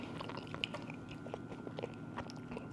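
Crisp bites and chewing on flaky pie pastry, a few soft crunchy bursts close to the mouth, quiet and steady with no talk.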